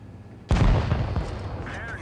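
A tank cannon fires in World of Tanks Blitz with one sudden, heavy, loud blast that booms on and rumbles out for over a second.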